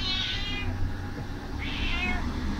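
A cat meows twice, two drawn-out cries separated by a short pause, over a low background hum.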